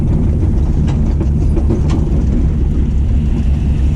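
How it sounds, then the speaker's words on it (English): Loud, constant low rumble inside a moving old Ford Falcon on hydraulics, with rattling and clanking knocks over road noise. "she clanks around a bit"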